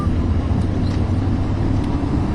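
Loud, steady engine roar from a van pushed to full throttle around the Mont Tremblant race track, a dense low drone throughout the short stretch with no break.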